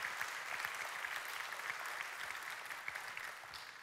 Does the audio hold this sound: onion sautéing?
no